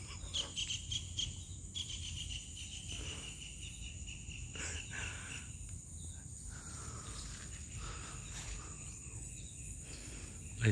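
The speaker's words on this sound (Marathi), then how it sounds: "पक्ष্याचा आवाज." Crickets trill steadily in quiet village countryside in the Konkan, with faint scattered bird calls over a soft, continuous outdoor background.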